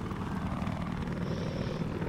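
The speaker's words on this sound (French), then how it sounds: "Par contre, Dams, il a un peu de mal avec son hélico pour l'instant." A helicopter in the Battlefield 4 video game, its steady low rotor and engine drone running loud and continuous throughout with no pauses.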